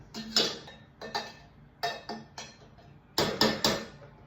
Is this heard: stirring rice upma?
yes